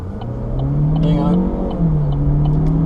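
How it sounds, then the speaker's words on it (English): Cars speed past on a road, a loud close engine whine climbing and then falling as one vehicle rushes by, with a second pass following right behind. "Man, people drive fast around here."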